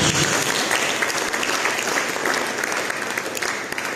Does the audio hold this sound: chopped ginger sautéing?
no